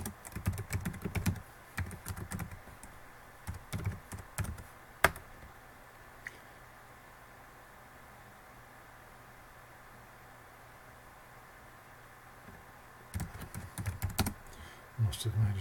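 Bursts of typing on a computer keyboard while entering commands, clustered at the start, middle and end with a long quiet stretch between, close and fairly crisp.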